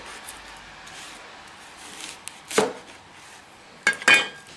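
Knife halving onions on a cutting board: two sharp chopping thuds several seconds apart, the second a quick double strike, over a quiet kitchen background.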